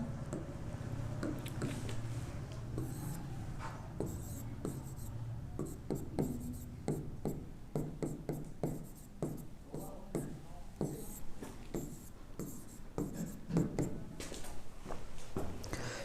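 A pen scratches quickly across paper while working through a math integration problem, with close, crisp, irregular strokes and taps, under soft talk.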